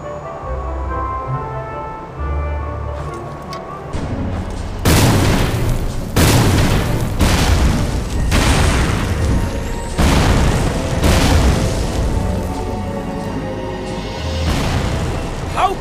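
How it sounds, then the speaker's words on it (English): Undead enemies fire cannonballs near a bridge in the mobile game Astra: Knights of Veda, a series of loud booming blasts spaced a second or two apart over background game music. "I'm referring to the cannon shot by the undead in front!"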